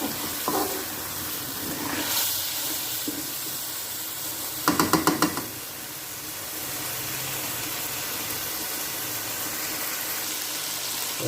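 Beef fries in oil in a pot for a cauliflower-and-beef curry, with a constant close sizzle and a brief burst of rapid stirring scrapes about halfway through.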